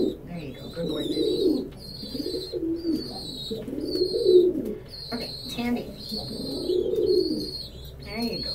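Pet pigeons or doves perched on a person's head coo in soft, repeated low rolls, with sharp chirps and light wing rustles over steady background noise, all close.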